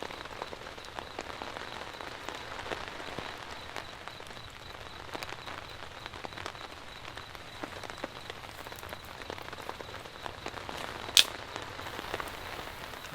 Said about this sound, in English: We have a steady rain falling outside, good fire underneath this tarp